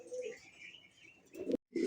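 Pigeons coo softly at a pigeon seller's farm, a short, close run of low bird calls with a brief gap before another coo.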